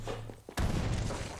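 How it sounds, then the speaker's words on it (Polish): In the video game Far Cry 6, after a brief quiet moment, a single loud, deep dynamite explosion bursts out and rumbles on, filling the rest of the moment with a heavy, noisy roar. "Rzućmy dynamit mu im."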